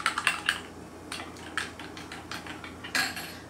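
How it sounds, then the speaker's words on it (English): Spoon scraping and clinking against a pot while Thai red curry with paneer and vegetables is stirred, a run of quick light knocks and scrapes, close but fairly quiet, with no talking. "I'm gonna give it a good stir."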